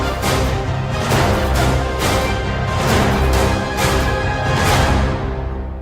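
An orchestral composition template plays a dense, full passage of strings with orchestral enhancers and percussion, swelling in steady pulses, loud and continuous with no voices.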